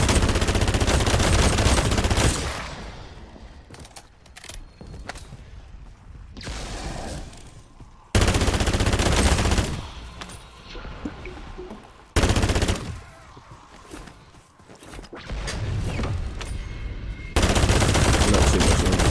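Automatic weapon fire in MW2 Zombies, several loud sustained bursts of rapid shots separated by quieter stretches of game noise, close and dominant.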